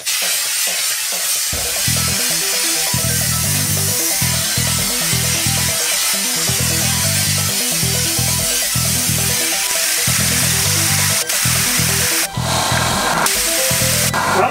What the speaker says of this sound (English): Squeeze the trigger first before you squeeze the bag.